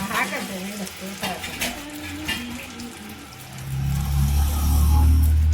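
Balls of sukkina unde, a traditional Karnataka sweet, dipped in batter and dropped into hot oil, with a strong sizzling fry swelling up in the second half after quieter kitchen stirring sounds.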